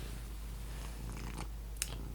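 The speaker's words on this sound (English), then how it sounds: "Today I am joined by one of our lovely house cats." A house cat purring close by during a quiet knitting session, a soft continuous low rumble running steadily under faint room noise, with no talking.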